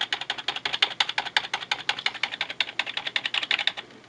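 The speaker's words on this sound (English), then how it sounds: "I just hit any key on the keyboard just so I can get to a menu." Keys struck rapidly on an HP Pavilion desktop computer keyboard, a steady run of about thirty close, crisp clicks in quick even rhythm, heard alone without talk.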